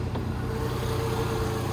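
A Volkswagen Caddy 1.6 MPI petrol engine idles with the air-conditioning compressor switched on, a steady low drone with a faint whine on top, close and even throughout.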